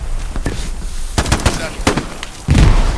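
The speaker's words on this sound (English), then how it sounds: "Satchel on tank." A satchel charge detonating on a tank in the video game Hell Let Loose, heard as a few sharp cracks and a heavier boom near the end amid dense battlefield noise, with faint voices in the mix.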